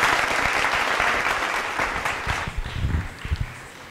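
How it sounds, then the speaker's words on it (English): An audience at a school musical night applauds the collector, a dense burst of clapping that starts strong and gradually thins out and fades. "So you all give her a huge round of applause for the collector."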